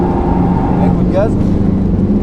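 Renault Mégane 4 RS Trophy-R on a circuit gives a quick throttle blip: a brief rising rev over a continuous loud engine drone from inside the cabin, with someone speaking over it.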